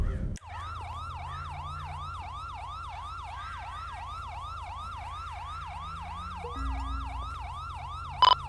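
A police siren wails in the game GTA with the LSPDFR mod, a steady repeating electronic yelp over a low engine hum, cutting off near the end.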